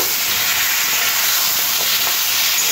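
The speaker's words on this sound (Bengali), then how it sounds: "শিমটাও আলুর সাথে একটু ভেজে নেব" Whole broad beans and potatoes fry in hot oil, giving a loud, steady, close sizzle and hiss throughout with no pauses.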